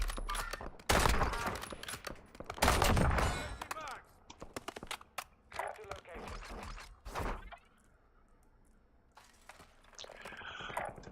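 Scattered gunshots and impacts in the video game Warzone, loud early bursts then thinning to sporadic pops, with a voice talking amid the action.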